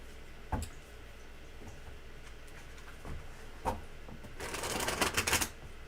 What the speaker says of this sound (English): I love this deck. It's nice to shuffle.